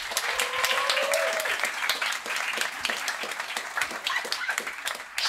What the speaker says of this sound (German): nochmal kurz Applaus für die zwei Jungs